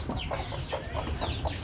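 Domestic free-range chickens cluck while pecking at jackfruit, a series of short, repeated clucks at a steady rhythm, close and moderately loud, with no talk.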